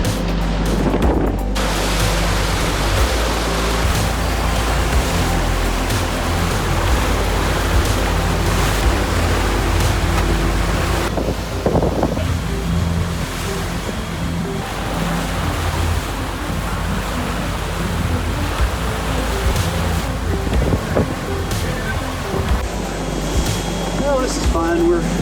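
A boat heads out onto the open sea off Florida toward the Bahamas at sunset, with continuous rushing waves, hull splash and gusting wind buffeting the microphone, loud and close, with a voice speaking over it.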